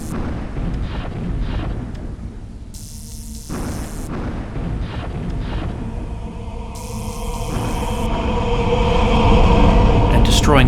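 Long-range artillery firing in the strategy game Leviathan: The Tone Rebellion, a steady rumbling barrage of booms layered with game effects and tones, swelling louder toward the end with a voice talking over it.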